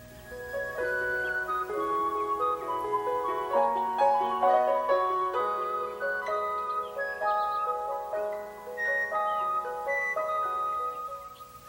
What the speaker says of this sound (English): Give me a song, little bird.